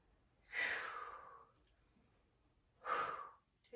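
Two long, breathy exhales are pushed out during a core-rebuilding exercise on hands and knees, each one close and audible, separated by a quiet gap of about two seconds.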